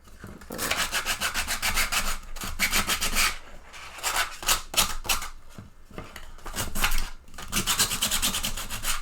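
Coarse 80 grit sandpaper rasps rhythmically against a soft plastic T-Rex bust, close and harsh, in rapid back-and-forth strokes with short pauses between bursts.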